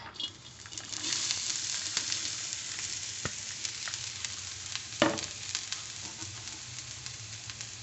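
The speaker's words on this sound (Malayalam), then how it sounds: "എന്നിട്ട് നമുക്ക് അതിലേക്ക് നമ്മൾ അരിഞ്ഞ ബീൻസ് ഇട്ട് കൊടുക്കാം." Chopped green beans hit hot oil in a pan, producing a loud, continuous crackling sizzle with scattered pops and a brief clatter midway, heard alone without voices.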